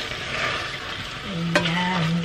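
Beef frying in oil in a pan, with steady sizzling and a spatula scraping and stirring through the meat, close and fairly loud, and no talk.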